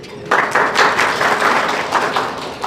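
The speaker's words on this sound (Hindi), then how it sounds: "दो लोगों ने बोला, इनके लिए ताली बजाइए" An audience at a talk breaks into clapping after a brief quiet moment. The applause is close, loud and sustained, with many hands striking in quick, uneven bursts until the end.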